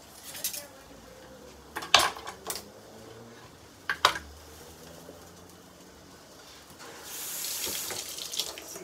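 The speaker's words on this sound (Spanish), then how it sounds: "Cuando te lavas las manos, la pones, sale el agua." Kitchen clatter of cutlery and dishes with a few sharp clinks, then an automatic sensor tap switching on near the end with a steady rush of water into a sink.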